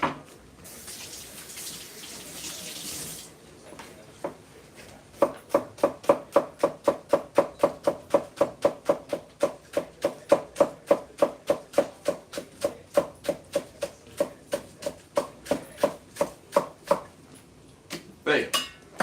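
Spring onions being chopped on a board with a knife, a long steady run of rapid, evenly spaced crisp thuds up close after a brief rush of tap water at the start.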